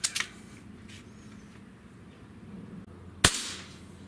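Two crisp, close shots from a Xisico Sentry .177 caliber PCP air rifle, about three seconds apart, with quiet room noise between them.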